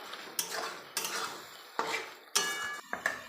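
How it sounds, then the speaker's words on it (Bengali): Spoon scrapes and clatters against a pot as meat is turned into cooked spice masala for a green pea and meat ghugni, a handful of sharp, close stirring strokes in quick succession with no voice. "এবার আমি মাংসগুলো দিয়ে দেবো মশলার উপরে, দিয়ে এবার আমি নেড়ে নেবো এমনভাবে"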